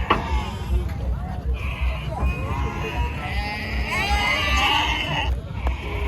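Sheep and lambs bleat in a crowd at a weekly Saturday sheep market in Amingada, calls rising repeatedly over steady background babble and someone talking nearby.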